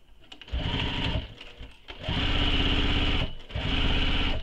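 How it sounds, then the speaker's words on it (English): Close and loud, a sewing machine stitches up the side of a small crossbody bag from the wrong side in three bursts that each grow longer, with short pauses between them. "I'm going to start sewing there and sew all the way up."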